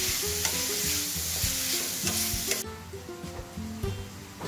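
Green capsicum sautéed with salt in a hot pan for sweet corn chilli, a loud continuous sizzle with repeated rhythmic stirring and scraping, close up and with no talking.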